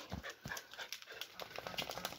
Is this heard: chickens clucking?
no